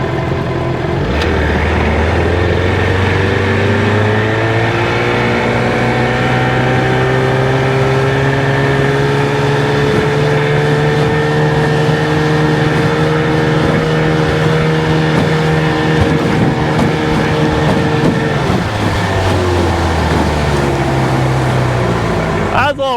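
A 1969 Johnson outboard motor on a SeaNymph boat runs in gear with a steady, loud, slightly rough drone that holds its pitch before easing off near the end.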